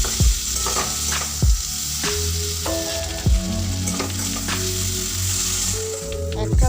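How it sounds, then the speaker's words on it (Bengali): Small fish with tomatoes and a little sugar are sautéed in a pan, giving a loud continuous sizzle with several knocks and scrapes from the stirring spoon over faint tonal background sound. "তারপর এটাকে ভালোভাবে কষাবো।"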